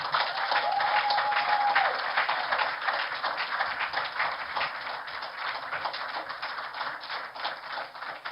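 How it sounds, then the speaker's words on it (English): Broad, sustained applause from a large audience greeting the 2021 class of the Tony Elumelu Foundation Entrepreneurship Programme, a dense continuous wash of clapping that holds steady throughout, with a faint tone briefly above it near the start. "Can we get the applause going while this is..."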